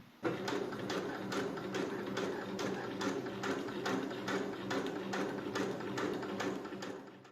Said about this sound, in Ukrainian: по цій лінії прокладаємо з'єднувальну строчку